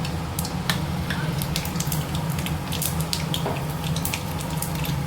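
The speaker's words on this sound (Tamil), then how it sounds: "கடுகும் சோம்பு நல்லா பொரிஞ்சிட்டு" Mustard and fennel seeds splutter in hot oil for a prawn thokku, a dense steady sizzle broken by sharp popping crackles at irregular intervals, close and fairly loud, with no voices.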